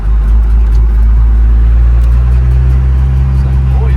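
A first-generation Cummins diesel truck, pulled from an abandoned salvage yard in Texas, creeps along in first gear with a steady, loud low engine rumble throughout, no voices present.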